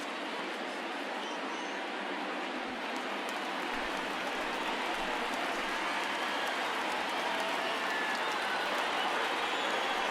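A baseball stadium crowd at an opening day Cubs at Rangers game rises and cheers on a full count, a broad, dense roar that holds loud and steady throughout.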